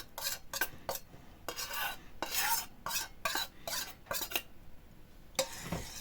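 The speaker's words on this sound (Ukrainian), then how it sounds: "І перемішуємо до повного розчинення желатину" A spoon stirs soaked gelatin into freshly boiled sugar syrup for an icing, making repeated quick scraping and clinking strokes against the pot, close and fairly loud, with brief pauses between bursts.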